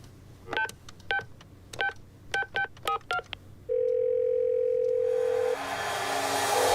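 Phone keypad tones beep in a quick series of separate dialing presses, followed by a steady dial tone that holds for about two seconds before line noise rises, heard in a Tamil film scene with no talk.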